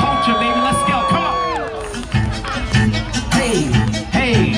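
A crowd at a car burnout event cheers and whoops loudly and continuously, with a voice shouting over it and a whistle-like tone early on.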